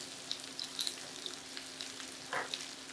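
Onions fry in a pan over reduced heat for a Kerala egg roast. A faint, steady sizzle carries light pops and a brief stirring scrape.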